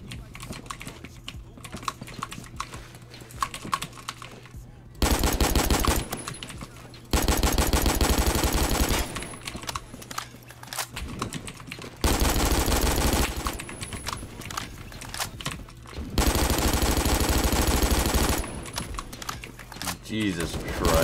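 Video game gunfire from an L22 rifle comes in several long, loud automatic bursts, close and harsh. Someone talks in the gaps between them.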